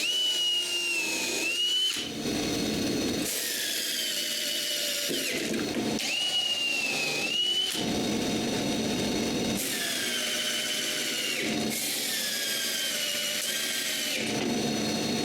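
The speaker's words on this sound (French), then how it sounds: "Cette fois-ci, je le visse au contreplaqué." A power drill drives screws through an edge-glued wood panel into a plywood backing, running in loud sustained whirring bursts of a few seconds each, separated by brief pauses, close up with no talking.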